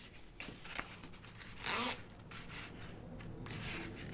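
A zipper slider runs along a backpack's zipper tape during sewing, giving a faint, close scratchy rasp with one louder, longer zip pull in the middle.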